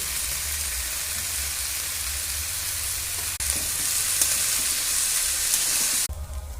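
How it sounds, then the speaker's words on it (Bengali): Green beans and potatoes fry in hot oil in a wok, giving a steady, loud, close sizzle that runs without pause, with a brief shift in the middle and near the end. "এবার বিমগুলো আমরা কড়ার মধ্যে দিয়ে দেব।"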